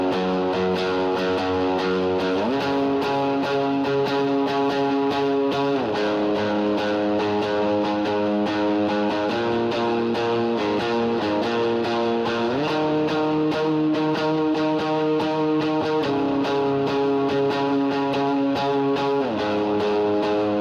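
An electric guitar with chorus, eighth-note delay, bloom reverb and extra drive strums a worship song. Sustained overdriven chords ring out, shifting every couple of seconds, with smeared delay tails. No voices.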